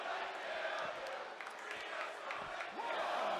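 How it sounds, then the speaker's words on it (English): Video game crowd noise in WWE 2K24 holds as a dense, continuous wash of arena roaring and shouting at moderate level, with no clear speech. "The crowd screaming Rhea's going to kill you"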